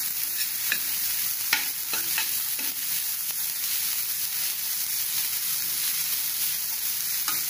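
Cabbage and mixed vegetables stir-fried in a pan for Manchow soup, a continuous close sizzle broken by quick stirring clatters and scrapes near the start, then a steady hiss.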